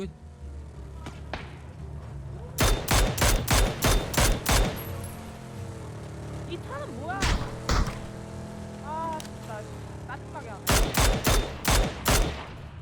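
Gunfire in the PUBG (Battlegrounds) video game comes in rapid bursts of sharp, loud shots, several volleys separated by pauses, while people talk and shout excitedly in between.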